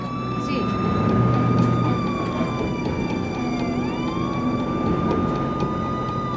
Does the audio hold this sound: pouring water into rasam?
no